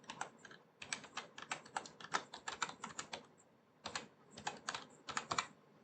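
Quick clicking keystrokes on a computer keyboard while an email ID is typed in, a close, fairly quiet burst of steady taps, a short pause, then a few more, with no talking.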